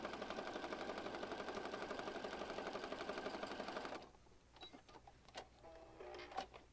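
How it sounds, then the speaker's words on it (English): A sewing machine stitches through gel prints for an oversized junk journal, a steady close whirring rattle that runs for about four seconds and then stops, followed by soft handling clicks and taps. "I'm going to stitch between the joins of the gel prints"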